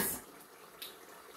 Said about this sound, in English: Okay, little bit water.